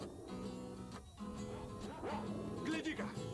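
Mutant dogs bark, yip and whimper in the video game STALKER: Shadow of Chernobyl, several short calls scattered over a steady background drone, with someone talking over them.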